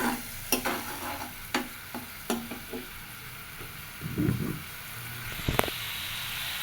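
Spice paste sautéing in a pan after a splash of water, with a low sizzle under repeated sharp scrapes of a spatula and a denser bubbling burst midway, close and moderately quiet.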